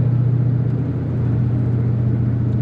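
A 1988 Ford LTD Crown Victoria with a 5-liter V8 and five-speed manual, heard from inside while driving: a steady, loud low engine drone and road rumble throughout, without pronounced revving.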